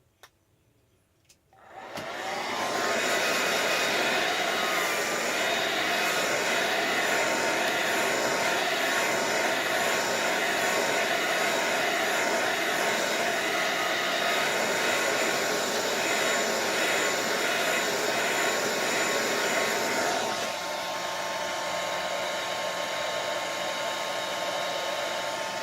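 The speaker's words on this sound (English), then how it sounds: "we got to use the blow dryer again" A hair dryer blows loudly and steadily for over twenty seconds, its pitch dropping slightly near the end, with no talking.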